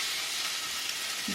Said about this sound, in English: sauteing the peppers and onions